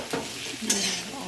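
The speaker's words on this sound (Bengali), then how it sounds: "আলুগুলো লাল করে ভাজা হয়ে গেছে।" Potatoes fry in a pan with a soft steady sizzle, broken by two brief scraping stirs, close and alone.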